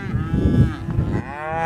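Cattle on a drought-stricken farm low in long mooing calls, one deep moo swelling and fading before a second begins, loud and close with a little rustling behind, and no talking.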